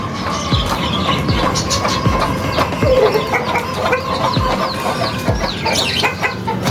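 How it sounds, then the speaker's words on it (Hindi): A rooster crows outdoors amid clucking fowl and a steady rumbling background that suggests a passing train, with the birds fairly close and loud. "मुर्गे साहब अजान दे रहे हैं चीज़ें।"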